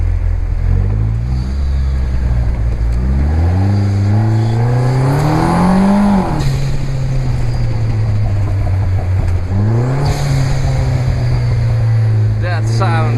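A Vanderhall Venice Speedster engine revs and accelerates loudly up close, its pitch climbing through gear changes and settling into a steady drone on a Monaco drive.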